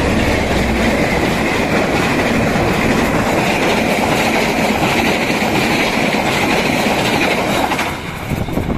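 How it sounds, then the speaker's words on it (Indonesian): Two trains passing a railway level crossing near Cangkring station in Cirebon, a loud continuous rumble with rhythmic wheel clatter, fading slightly at the end. "JPL belum membuka, double kereta akan melintas ternyata."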